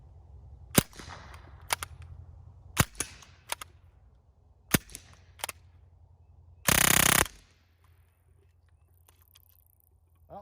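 Ruger 10/22 converted to a machine gun firing short loud pops and brief bursts, with one dense sustained burst mid-clip, apparently hampered by a magazine with weak spring tension.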